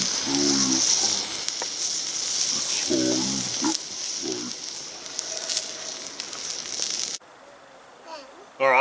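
Ribeye steak searing on a grill plate over a braai, a steady close sizzle and crackle running throughout, with brief voices over it and a sudden drop near the end.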